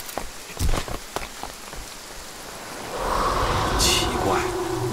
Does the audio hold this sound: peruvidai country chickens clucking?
no